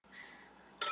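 A telephone rings in a tense radio drama, a bright burst of bell-like ringing cutting in abruptly near the end after a quiet, faint stretch.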